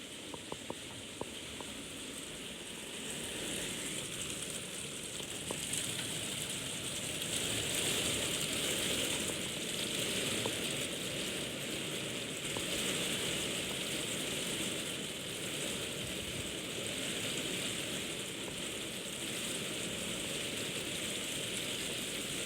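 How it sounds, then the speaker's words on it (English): Dense, steady patter of rain drumming on a conservatory roof overhead, continuous and even throughout, with no voices. "can you hear that rain?"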